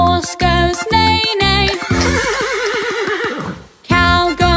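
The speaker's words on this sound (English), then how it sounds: "horse goes neigh" A horse whinnies in a wavering, descending call from the middle of a children's farmyard nursery song, with sung music and plucked instrument notes on either side of it.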